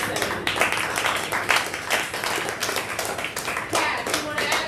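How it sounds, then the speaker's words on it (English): A small group on a podcast recording claps in a loose, uneven round of applause, individual hand claps distinct and close, rising and falling in bursts over several seconds. "Let's give a round of applause for Head Cracks Move Better segment."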